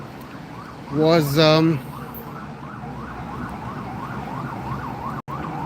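New York street near a hospital with an emergency vehicle siren wailing steadily in a rising-falling pattern throughout, moderately loud, while a brief burst of nearby voices and commotion breaks in early on.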